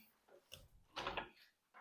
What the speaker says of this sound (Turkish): kapatıyorum kapıyı